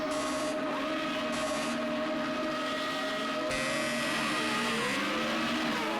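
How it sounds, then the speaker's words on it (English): A Formula Renault race car's engine revs build in a sim racing game at Road America, a steady synthetic engine drone with shifting tonal whines, continuous and fairly quiet with no voices. "Revs are building."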